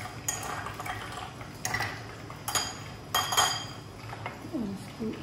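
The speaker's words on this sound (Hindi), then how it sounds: "हम ग्लास में बर्फ डालेंगे क्योंकि लस्सी हमें चाहिए ठंडी, तो हम बर्फ अच्छी खासी डालेंगे।" Ice cubes drop into a glass in several separate clinks and rattles for a cold lassi, quiet and close with faint kitchen noise between.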